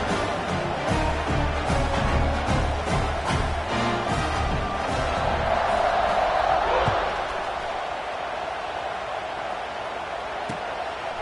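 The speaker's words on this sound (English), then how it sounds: "this crowd is buzzing after that last score" Stadium crowd at a football game buzzing steadily after a rushing touchdown, a dense loud roar with thumps and bangs early on that eases slightly toward the end.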